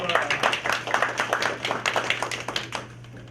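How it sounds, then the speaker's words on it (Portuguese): A group claps together at the close of a negotiation training exercise in a classroom, steady rapid applause with a low background hum, fading slightly toward the end. "Palmas para vocês."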